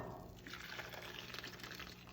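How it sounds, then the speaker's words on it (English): Broth poured over clams in a hot pan, a soft, steady liquid pour with light sizzling and trickling close by, quiet and continuous with no talking. "Pour the broth over the clams."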